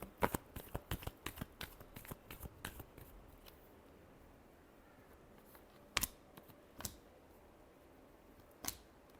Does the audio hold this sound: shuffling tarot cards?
yes